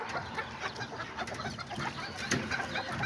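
Hens and a small white rooster cluck in a coop, a busy continuous mix of soft clucks and chatter at moderate distance, with no talking.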